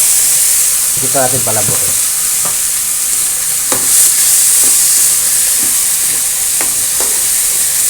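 Unsoftened mung beans are sautéed in a pan for a monggo dish with chicharon and alugbati, giving a loud, continuous sizzling hiss punctuated by scraping stir strokes, with a person briefly speaking over it.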